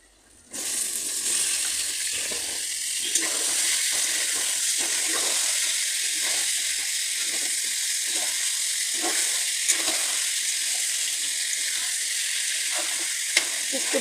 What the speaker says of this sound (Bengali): একটু ভেজে নিয়ে নিতে হবে মাংসগুলোকে